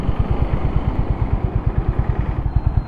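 A Honda CB350 cruiser motorcycle engine runs quietly nearby, a low, even, rapid thumping pulse that holds steady throughout with no voices.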